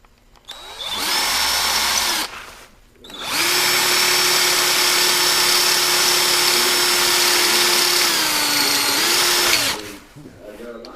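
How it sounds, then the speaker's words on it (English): A power drill drills out holes, running at high speed in two long loud bursts separated by a short pause, with the pitch dipping slightly under load near the end. "We need to drill out these holes."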